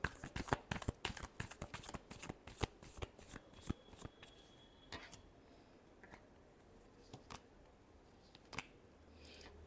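A deck of tarot cards is shuffled by hand, a quick run of crisp riffling flicks close up that thins into a few scattered slaps and taps.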